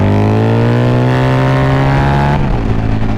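A Harley-Davidson V-Rod Muscle motorcycle engine, just back from a dealership recall and on new tires, revs loud and close, its pitch climbing steadily before dropping sharply near the end.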